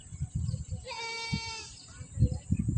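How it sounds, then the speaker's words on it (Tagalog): A goat bleats near the sea by a quiet coastal village, one wavering, quavering call rising over people chatting nearby. "Ay, may kambing."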